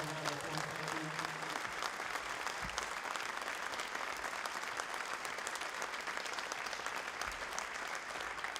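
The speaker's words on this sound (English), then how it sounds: "can we just give these dancers and these players one more round of applause?" Sustained applause from a crowd honouring dancers and netball players at a First Nations Round match at Gold Netball Centre, steady and dense throughout with no talk over it.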